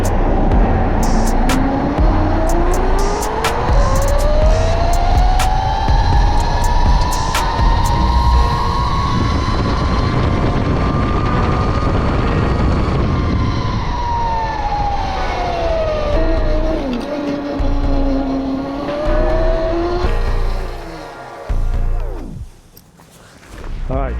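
A Rizzler Sport 72-volt, 8,000-watt electric mini bike runs at speed with a steady, rising and falling motor whine under loud wind rush, continuous for most of the stretch before dropping away near the end.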